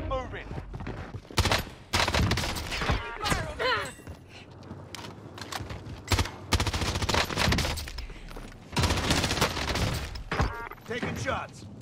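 Video game battle-royale gunfire, including Kar98k sniper shots, rings out in repeated loud bursts and volleys, some close and sharp, mixed with game voice callouts and speech.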